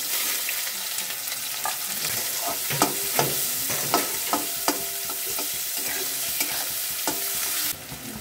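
Steady sizzling of onions and cinnamon sticks frying in a pan for a young jackfruit curry, with repeated scraping clinks of a spoon stirring at an irregular rhythm, close up and with no talking.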